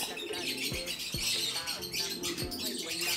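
Kept pigeons give scattered squawks and short calls close by over a steady, noisy background, with a few low swooping notes. No one speaks.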